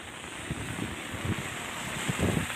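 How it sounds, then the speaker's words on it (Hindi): Rainwater from the first rain flows past with a steady, rushing, wind-like wash at moderate volume, no voices over it. "पानी का बहाव"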